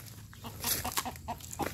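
Chickens cluck in quick, choppy bursts close by at a rural hillside spot on Mount Mataba in San Mateo, Rizal, the calls fairly soft and overlapping with no voices.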